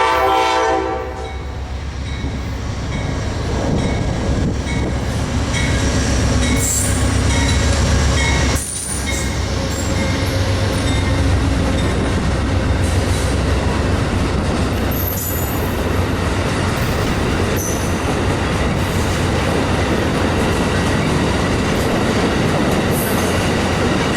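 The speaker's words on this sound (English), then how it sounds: "we now have Amtrak City of New Orleans Train 58 on time out of Union Station heading for Chicago" Amtrak City of New Orleans Train 58 passing close by, a loud continuous roar of rolling cars and wheels with horn blasts and some wheel squeal.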